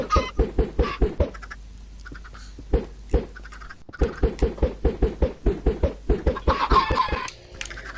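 Chickens in the Minecraft video game clucking in rapid, rhythmic bursts of short calls, loud and close, with a brief quiet gap and a denser flurry near the end; no talking.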